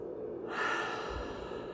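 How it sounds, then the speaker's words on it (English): One big breath taken in and let out during a tapping exercise, a single close, breathy sigh rising and fading over a second or so. "Take a big breath in and out."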